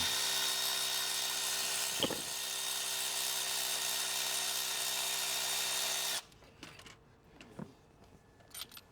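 A power tool loosening a spark plug on a 2025 Toyota Tundra turbo engine whirs steadily at high speed for several seconds, then stops abruptly, leaving faint clicks and handling noises.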